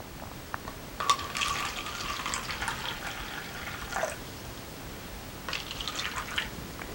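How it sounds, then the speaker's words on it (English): Food-coloured water poured from a pitcher into four cups: two soft splashing runs of liquid, one longer and one shorter, fairly faint over a quiet room background. "I'll pour up all 4 of these cups."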